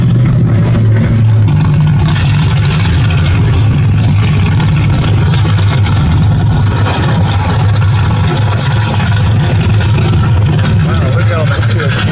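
A motorboat engine runs loud and steady throughout, a deep continuous drone with a rumbling low end and no pauses.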